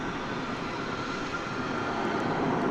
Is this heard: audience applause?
no